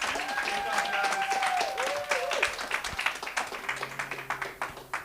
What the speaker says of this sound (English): Then let's give them a round of applause